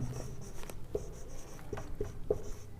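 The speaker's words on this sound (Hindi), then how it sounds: "चलो इसको लिखते हैं।" Pen or chalk writing notes during a Hindi-language genetics lesson, a series of soft scratchy strokes with brief taps, close and alone without talk.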